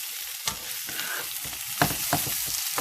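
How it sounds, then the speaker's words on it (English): Vegan sausage jambalaya with applewood smoked vegan sausage stirred in a pan, a steady low sizzle beneath intermittent scraping and thuds of a spoon moving through the thick mixture, close by and without speech. "So I'm going to keep stirring it."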